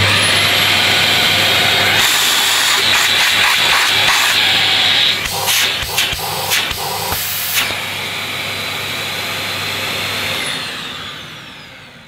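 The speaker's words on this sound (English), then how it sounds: "Let's turn the cleaner on." A Dyson DC15 Animal vacuum cleaner switched on, its loud close motor whining and hissing steadily with a few bumps and rattles midway before spinning down at the end.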